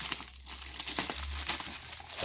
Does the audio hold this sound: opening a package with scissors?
yes